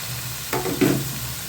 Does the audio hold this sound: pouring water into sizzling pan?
yes